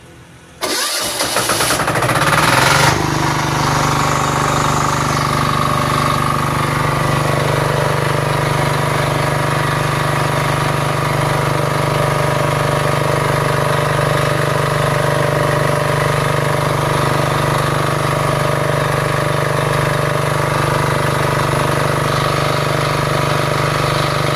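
A diesel generator engine cranks and catches, then settles into a loud, steady running drone that continues unchanged for the rest of the recording.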